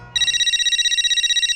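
A mobile phone ringtone suddenly starts up loud and close, a bright, steady electronic trill pulsing in rapid, even beats after a moment of soft background sound.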